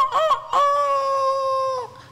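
A chicken gives a couple of quick, close clucks, then a rooster lets out a long, loud, sustained crow that holds steady before cutting off.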